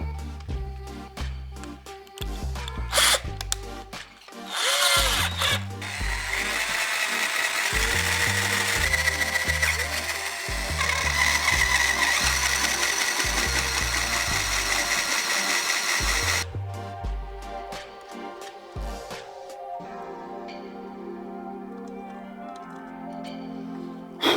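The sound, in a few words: drill enlarging a pilot hole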